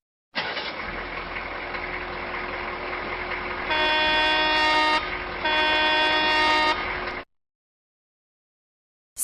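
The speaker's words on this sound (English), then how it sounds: "Semi-truck." Semi-truck with a steady rumbling engine drone, interrupted by two loud sustained blasts of a deep multi-tone air horn in the middle, then the sound stops abruptly.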